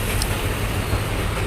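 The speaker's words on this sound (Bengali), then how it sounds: "আর এই যে এই ট্রেনটা আপনার হইলো যাইতেছে" Passing train in Colombo near the seaside, a loud, steady low rumble of rolling wheels and engine drone filling the brief moment without pause.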